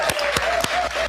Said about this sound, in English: Give her another round of applause, please.